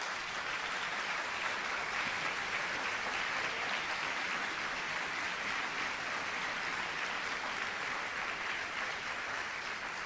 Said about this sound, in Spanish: Y si yo fuera usted, le daría otro aplauso al Señor.